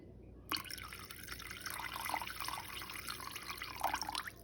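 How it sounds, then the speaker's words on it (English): Water from a tap streams and splashes into a pot of chicken and meat for stock, a continuous trickling pour with bubbling drips that starts abruptly and runs steadily close by. "I'm going to add a little bit more water."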